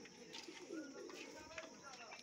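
Soft, low cooing from a teddy pigeon close by, murmuring under a voice talking.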